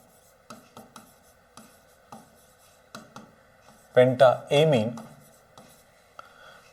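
A pen writes a Class 12 chemistry answer by hand on paper in short, quick scratchy strokes, with a brief burst of louder scribbling, while a voice talks faintly.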